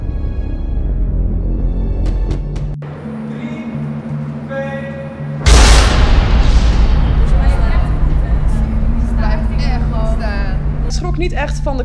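A sudden loud bang from a powder blast at an outdoor fashion photo shoot on a metro construction site, cutting in midway through a steady low rumble of site machinery, followed by a broad hiss as the powder disperses.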